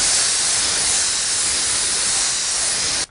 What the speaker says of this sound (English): I'm going to check my spray pattern against my cardboard sample.